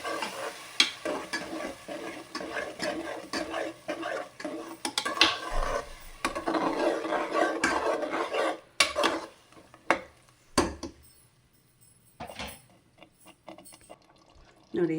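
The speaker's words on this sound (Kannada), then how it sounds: "ಇದು ಸ್ವಲ್ಪ ಫ್ರೈ ಮಾಡ್ಕೊಬೇಕು, 1-2-3 ನಿಮಿಷ, ಯಾಕಂದರೆ ಹಸಿ ವಾಸನೆ ಎಲ್ಲ ಹೋಗಬೇಕು" A ground paste of spinach, coriander and mint fries in a pan for palak rice, giving a close sizzle and bubbling under repeated scraping and stirring with a utensil against the pan, with a voice talking throughout.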